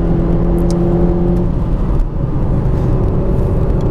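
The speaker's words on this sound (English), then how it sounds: "Makes some good sound too, with a bark and a lovely resonance in all that lovely twin cam goodness." A Ford Focus twin cam engine hums and revs from inside the car, a loud steady droning rumble with a tonal whine that shifts and fades as the revs change midway.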